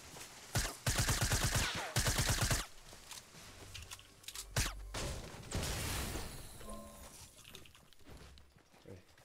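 Rapid bursts of gunfire in the Fortnite video game, two loud sustained volleys early on followed by scattered single shots and crashes, with players talking over the action.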